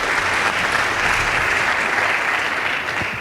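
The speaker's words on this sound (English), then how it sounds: "Please give them a round of applause." Sustained applause from a school debate audience fills the hall, steady and dense throughout, at the announcement of results between Pangani Girls and Loreto High School.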